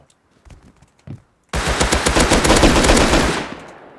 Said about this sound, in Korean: 나 총소리 두번 들린다